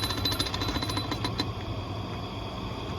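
A 15hp Reid oilfield engine at startup makes a rapid, rough, rattling pulse, steady and fairly close, with dense low-end chugging throughout and no talk.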